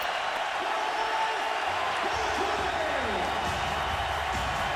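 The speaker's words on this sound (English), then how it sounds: "listen to this crowd" A packed arena crowd at a 2007 NBA playoff basketball game between the Warriors and Mavericks roars in a broad, sustained wash of cheering, with a commentator's voice running over it.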